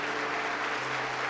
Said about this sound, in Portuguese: Vamos dar um aplauso a Jesus pela vida dessas pessoas?